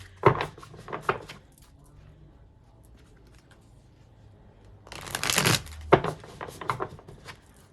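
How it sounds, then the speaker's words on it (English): Tarot cards being riffled and shuffled in two bursts, a short flurry at the start and a longer, louder riffle later, with quiet gaps between. "Just going to shuffle one more time so we can get a nice clean read"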